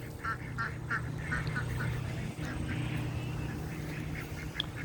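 Ducks quack in a steady series of short nasal calls throughout, close and fairly loud over a constant low hum of background noise, with no talking.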